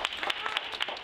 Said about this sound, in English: So can we have a round of applause, please,